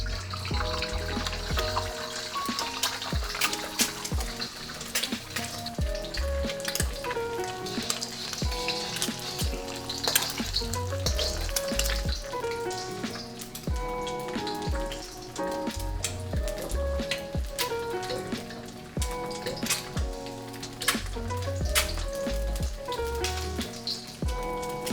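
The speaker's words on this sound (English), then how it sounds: "we're gonna add some oil to it so we can fry up an egg" An egg frying in oil in a wok for breakfast fried rice, a dense continuous crackle and spatter of hot oil with busy popping throughout, close and fairly loud, no voices.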